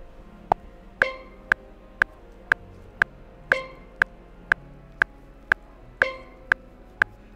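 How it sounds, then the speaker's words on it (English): Steel drum tapping a steady pulse of short metallic hits, with a brighter ringing accent every few notes in a repeating five-beat cycle, moderately quiet and alone. "So the steel drum playing in 5 every beat 2 sounds like this."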